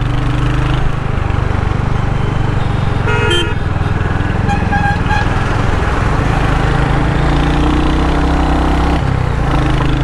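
A Royal Enfield Hunter 350 motorcycle is ridden with a constant, loud low engine drone and wind rush throughout, plus a brief higher tone near the middle.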